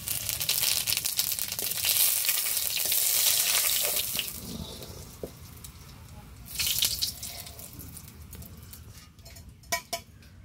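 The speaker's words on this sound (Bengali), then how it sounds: "আবার সর্ষের তেল দিয়ে দিচ্ছি কড়াইতে। তেলের মধ্যে একটু বেশি করে জিরে দিয়ে দেবো" Cumin seeds fry in mustard oil in a kadai, a close steady hiss with clinks of a metal spoon against the pan, a brief louder scrape midway and sharp taps near the end.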